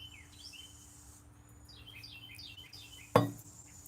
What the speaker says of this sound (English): There's another little bird.